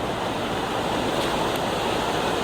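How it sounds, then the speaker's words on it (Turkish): The Kağızman creek rushes beside a bridge where it pours into the Aras River, a steady broadband roar of flowing water with a little wind noise and no voices. "Böyle yanımızdan hemen Kağızman Deresi akarak dökülüyor Aras Nehri'ne."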